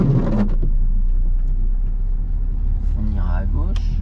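A learner's car pulls away again after braking during a driving lesson, its engine a steady low rumble throughout, with people talking inside the cabin over it.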